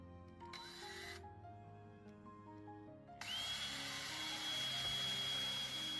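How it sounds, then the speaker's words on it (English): A power drill bores holes into a broken, 150-year-old antique Eastlake table, starting with short bursts of motor whine before settling into a loud, steady, continuous drone for the last few seconds. "I'm going to take a slightly larger drill bit and drill holes into the centers of where the trim piece was broken off on the table."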